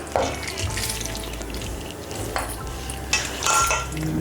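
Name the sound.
washed chicken added to a pan on the stove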